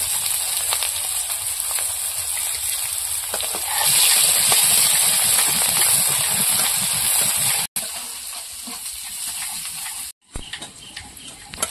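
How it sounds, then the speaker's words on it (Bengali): Chopped onion and garlic frying in hot oil in a kitchen pan, a continuous close sizzle that swells louder midway, then cuts off briefly twice before resuming. "পেঁয়াজ রসুন ভাজা হয়ে গেছে।"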